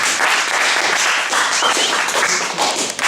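An audience claps after a presentation, a short burst of close, dense applause lasting a few seconds with no voices over it.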